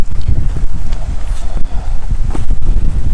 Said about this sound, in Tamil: ஒரு சிக்கனை 3 பேர் பிடிச்சி கிழிக்கிற அளவுக்கு காற்று வீசுது